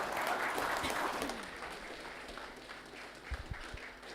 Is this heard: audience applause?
yes